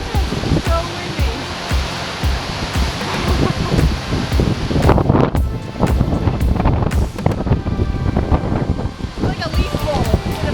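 Strong gusting wind buffets the microphone outdoors along the Blue Ridge Parkway in Virginia among autumn leaves, a loud continuous roar with surging bursts.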